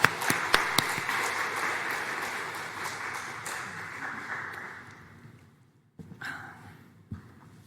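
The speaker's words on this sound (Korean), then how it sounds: "우리 격려의 박수 하도록 하겠습니다" Loud applause from a church congregation at a Wednesday service fills most of the clip, fading out, then a brief burst of clapping returns near the end.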